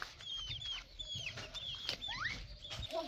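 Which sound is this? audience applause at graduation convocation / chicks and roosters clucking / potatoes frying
chicks and roosters clucking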